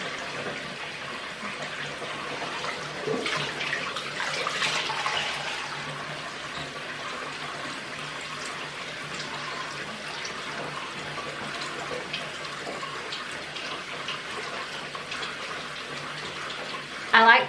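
Warm water runs steadily from a bathroom tap as someone wets their face, a continuous close splashing gush throughout with brief louder splashes and a sharp bump near the end.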